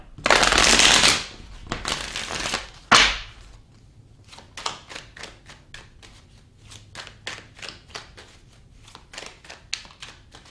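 Tarot cards riffle-shuffled in two loud, close bursts, followed by a quick run of crisp, evenly spaced snaps and taps as cards are drawn and laid down, with no talking.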